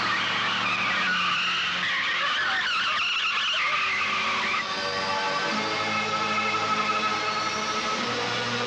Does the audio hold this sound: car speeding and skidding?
yes